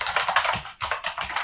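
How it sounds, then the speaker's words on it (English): Quick, steady keystrokes on a computer keyboard as a book title is typed, a close run of light clicks with one brief pause midway. "And then you have to type in a title."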